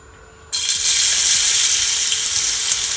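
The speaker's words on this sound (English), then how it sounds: "I'm just gonna allow my garlic to saute for at least 2 minutes" Garlic hits hot olive oil in a pot and immediately bursts into a loud, steady sizzle that carries on evenly without talk.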